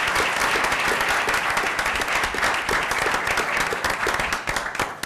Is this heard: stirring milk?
no